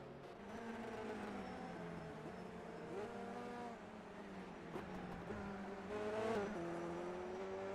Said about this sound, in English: Oh, look at Eggert drifting into the turn 10 hairpin there.